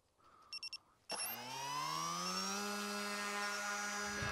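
Electric motor and propeller of a Dart XL RC plane with a 6S Mini Drak powertrain and 8045 prop, heard after a few short beeps: the motor whines up steeply and settles into a steady, loud, close drone.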